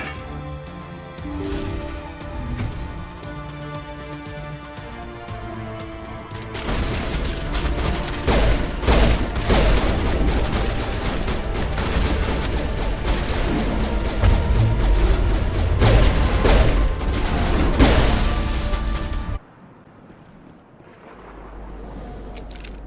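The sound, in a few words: turret firing bolts in Mass Effect video game battle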